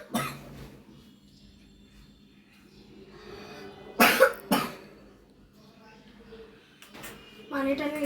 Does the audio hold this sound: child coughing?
yes